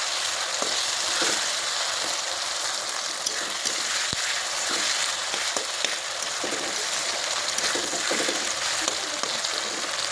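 Whole onions and green peas sizzle steadily in hot oil, a close, continuous crackle with small pops and no voices.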